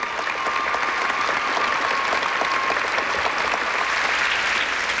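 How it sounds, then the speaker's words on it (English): An arena audience applauds figure skater Todd Eldredge of the United States at a 1992 Skate America exhibition, a dense, steady roar of clapping from a large crowd, continuous and even throughout. "And the fans continue to applaud Todd Eldridge of the United States."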